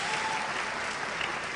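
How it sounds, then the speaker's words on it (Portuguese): Brief burst of dense audience applause during a Spiritist interview event, a continuous crowd of hands clapping at steady loudness through the whole moment. "Palmas para Rio Verde aí"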